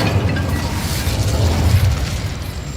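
The Incendio fire spell cast in Hogwarts Legacy, a loud, close, roaring whoosh of flame with a booming low rumble sustained for about three seconds, with no talk.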